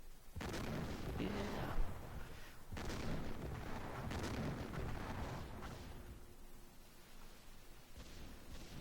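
Heavy naval guns boom from a warship's forward turrets during the Jutland battle in a game, several loud deep blasts at irregular intervals with rumbling tails over continuous low background noise.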